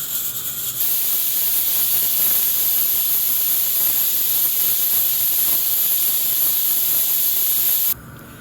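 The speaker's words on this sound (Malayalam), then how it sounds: "ഇപ്പോൾ കുക്കർ ഒരു വിസിൽ അടിച്ചിട്ടുണ്ട്." A pressure cooker of Arabic rice with chicken lets off a loud, steady rush of hissing steam that holds for most of the clip before cutting back down near the end.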